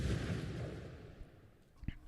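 A sticky bomb (Semtex) detonating in a video game: a loud, booming blast opens the clip and its rumble fades over about a second, then a short, sharp pop follows near the end. No voices.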